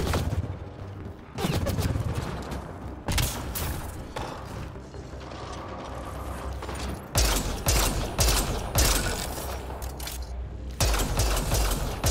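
Enemy gunfire in the sci-fi shooter Mass Effect: Andromeda, loud sustained volleys of shots and thuds in bursts, with a brief lull before heavy fire resumes near the end, mixed with game noise.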